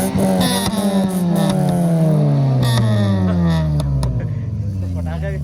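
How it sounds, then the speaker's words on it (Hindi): Two 1300 cc sedans, a Suzuki Gli and an Indus, revving together through aftermarket exhausts at Karachi Seaview, loud rising and falling engine notes that sweep up and down, with people shouting over them. "अभी दोनों गाड़ियों का एक साथ आपको साउंड टेस्ट करवाते हैं।"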